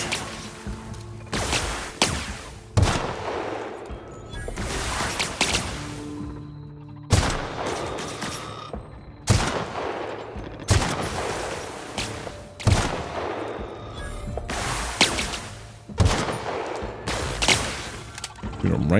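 Repeated bursts of gunfire from The Outer Worlds video game, loud broadband volleys recurring every couple of seconds over a steady game backdrop, with some voice mixed in.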